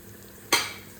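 Food hits a hot pan and bursts into a sudden loud sizzle that quickly settles into a softer frying hiss, heard close with no talking.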